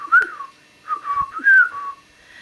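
A human voice whistles in imitation of trunk-nosed creatures that whistle instead of talking: three short, clear, sliding whistled phrases with brief pauses between them, close and fairly loud, with no speech.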